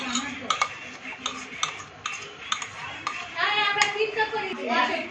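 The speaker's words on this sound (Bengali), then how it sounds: "এখন এটার মধ্যে দিব আমরা পাউডার দুধ এবং কর্নফ্লাওয়ার মিক্স করছি আমরা ভালো মতো" Spoon scraping and clinking around a pot while hot milk is stirred with powdered milk and cornflour for nabobi semai, rhythmic taps under a person talking.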